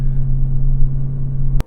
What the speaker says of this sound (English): Can't get enough of that exhaust. It is intoxicating.